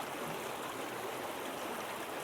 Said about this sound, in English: the healing effect of the sound of the water